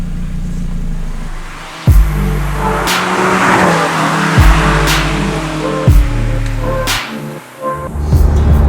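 Lotus Elise Cup 250 Final Edition driving hard, engine rising and falling through several gear changes with sharp tire squeals, close and loud with no talking.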